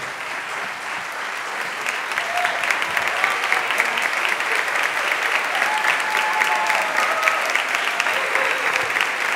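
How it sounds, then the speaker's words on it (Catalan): An audience at a Christmas concert by a Terrassa town band applauds the brass section with a sustained, dense round of clapping that stays loud and even throughout. "Un fort aplaudiment a la secció de metalls."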